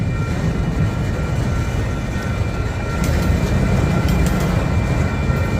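Union Pacific #1655 locomotive leads a freight train past, a loud, steady rumble of engine and rolling cars that holds throughout, with faint squeals from the wheels partway through.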